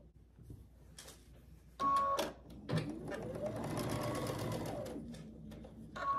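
A sewing machine stitches together the bottom halves of a pinwheel quilt block, running in a steady whir for a few seconds after short clicks and starts, close and fairly loud.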